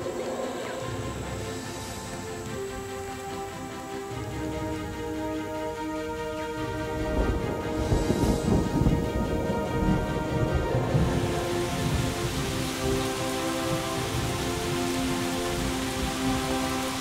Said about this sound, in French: La saison des grandes précipitations